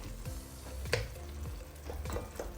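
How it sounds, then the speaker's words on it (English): A spoon mashes cooked urad lentils in a pot, making soft, faint, irregular squishing and scraping taps with a few sharper clicks of spoon on metal. No one speaks. "Now you want to mash them slightly"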